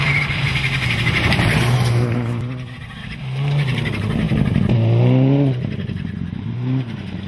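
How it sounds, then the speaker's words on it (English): A Subaru rally car driving a forest stage at a UK club rally, its engine droning and revving up and down through gear changes, moderately close and steady throughout. "Jim McNeil and Kim Baker bring their Subaru back in one piece to claim 9th"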